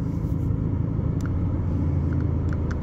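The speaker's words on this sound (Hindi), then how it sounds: "तो मम्मी चला रही है गाड़ी।" A car being driven by a mother who is learning to handle the clutch and brake gives a steady low rumble heard close from inside the cabin, unbroken for a few seconds, with faint ticks above it.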